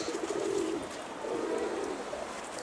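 Pigeons or doves coo in low, repeated phrases at close range, startled near a rooftop, over steady outdoor background noise with no talking.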